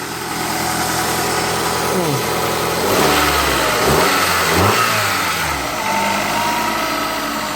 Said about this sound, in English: Pretty good little running car.